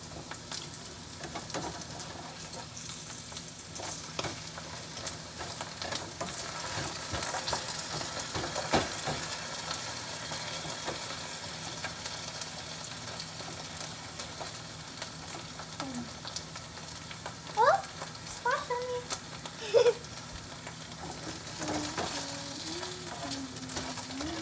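Potatoes with chorizo frying in a pan, a steady soft sizzle and crackle throughout, with a few scrapes of stirring near the end and no talk.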